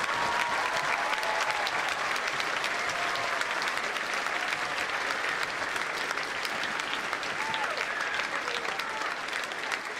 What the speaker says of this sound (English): Can we give all of our veterans one big round of applause?